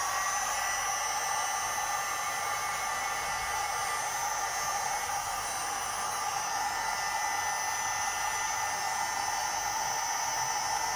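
A hair dryer blowing hot air steadily at close range onto a vehicle's undercarriage panel during a repair, a constant loud airy roar with a faint motor whine, no talking.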